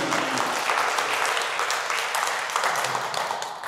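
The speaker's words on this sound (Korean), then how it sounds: "박수로 축하드립니다." Audience at a Korean Buddhist professors' conference at Woljeongsa temple applauding in congratulation, a dense, steady burst of many hands clapping close and loud, fading slightly at the end.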